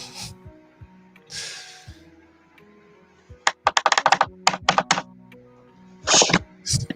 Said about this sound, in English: Sounds like he's banging on the keyboard.